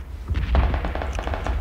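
Gunshots in the game PUBG Battlegrounds come as a short burst of sharp, booming cracks heard at a distance. They land close together, with no talk over them.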